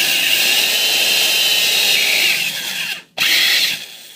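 A power drill with a hole-cutting bit grinds steadily through material, loud and close, then briefly stops, restarts and winds down near the end.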